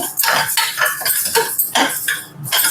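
A spoon scrapes and clinks against a metal pressure cooker pot as dry moong dal is stirred and roasted over medium flame, irregular scraping strokes, close up.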